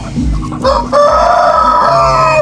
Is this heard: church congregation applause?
no